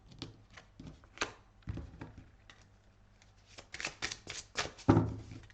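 Tarot cards drawn and handled during a reading, quick papery flicks and riffling slides at close range, some crisp and louder near the end, in a quiet room without speech.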